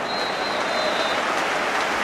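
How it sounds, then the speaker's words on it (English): A stadium crowd applauds during an Ipswich Town versus Arsenal football match, a broad steady roar of clapping from the stands, distant and continuous, with a faint whistle-like tone early on. "The applause is for Jermaine Wright"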